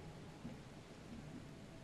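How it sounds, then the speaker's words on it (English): Steady rain falls in a gloomy coastal town in the horror game The Sinking City, making a soft, even wash with a faint low rumble beneath it. It stays quiet and continuous throughout. "I do hope the rain will eventually stop."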